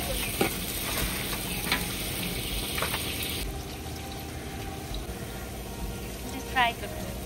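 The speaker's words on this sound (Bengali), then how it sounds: "পাশে রোস্টও ফ্রাই করা হবে" A roast sizzles in a frying pan outdoors at a family picnic, a steady crackling fry with occasional scraping and a muffled voice talking underneath.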